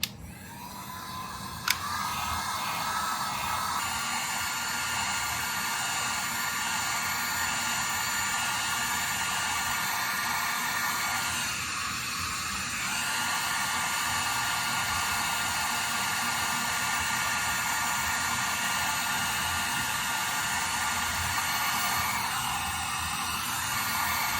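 A heat gun blows steadily on a hard, stiff fuel line of a Honda dirt bike, a continuous close airy whoosh with a faint high whine that barely changes for the whole stretch.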